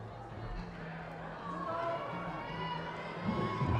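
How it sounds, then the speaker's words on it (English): Crowd murmur at a bouldering competition finals, a steady low mix of voices and shuffling that swells slightly toward the end, tense and subdued rather than cheering. "You can hear the crowd almost holding their breath."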